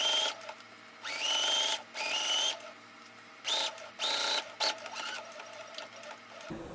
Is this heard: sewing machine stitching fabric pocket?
yes